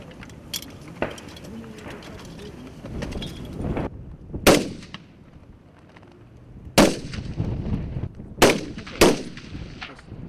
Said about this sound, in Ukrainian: на полігоні стрілянина з автоматів та гранатометів